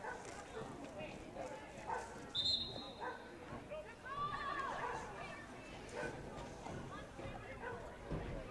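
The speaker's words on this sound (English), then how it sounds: "the dogs are barking" Several dogs bark intermittently beside a girls' high school soccer field, faint and somewhat distant, mixed with crowd chatter and voices during the match.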